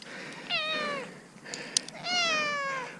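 A cat gives two loud, close meows, each drawn out and falling in pitch, with a faint click in the quiet gap between them and no talking.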